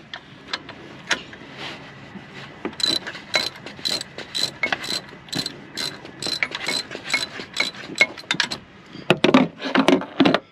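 Socket ratchet loosening an alternator bolt on a Corvette C5 LS, with rapid bursts of close, crisp pawl clicks in repeated strokes, gaps between them, and faster clicking near the end.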